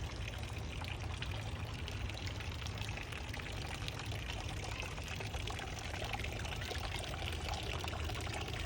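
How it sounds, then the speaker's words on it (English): Water trickling and pouring into a community garden pond, a steady, faint wash of running water that continues without a break. "we installed a pond here"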